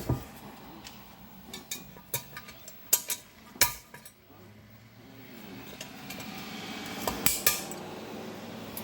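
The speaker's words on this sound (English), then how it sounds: "Attach the cover clamp to the cover using 4 screws and hex nuts." Metal screws and hex nuts clinking and rattling as a cover clamp is fastened to an old pump cover, with scattered sharp clicks and clanks at irregular intervals over a low background hum.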